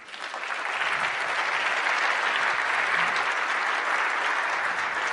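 Keynote audience at a big data conference applauding, a dense steady roar of clapping that swells in the first second and holds loud throughout.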